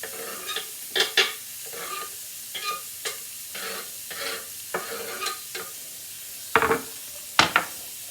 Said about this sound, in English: Now we put in our beautiful mix of carrots, celery, and onion.